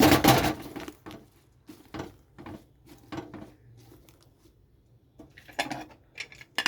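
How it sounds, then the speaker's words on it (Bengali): Leaves of the dasta taro plant, tied with sewing thread, are set into a pressure cooker, giving a series of separate clanks and knocks of pot and metal, some sharp and close, with quiet gaps between. "এখন আমি প্রেসার কুকারের মধ্যে দিয়ে দিচ্ছি সিদ্ধ হওয়ার জন্য।"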